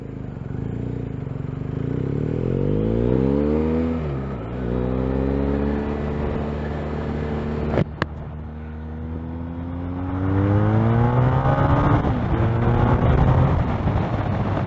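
A BMW R1250R motorcycle accelerates hard on a ride, its engine note climbing through the gears in rising sweeps with brief dips at each shift, loud and close under wind rush, with no speech.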